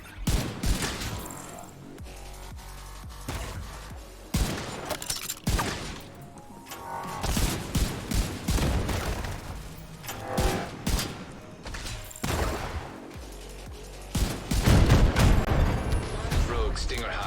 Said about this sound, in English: Rogue artillery turret detected.